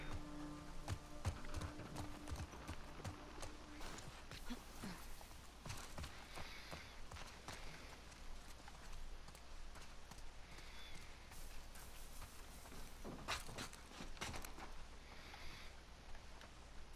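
Horse hooves clip-clop steadily in The Last of Us Part II, a brisk rhythmic trot running through the scene beneath game ambience and scattered louder effects.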